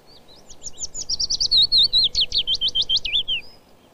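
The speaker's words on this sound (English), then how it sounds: "here again is the willow warbler's song for comparison." A willow warbler sings one clear descending, liquid phrase of sweet notes that swells and fades, fairly close and alone.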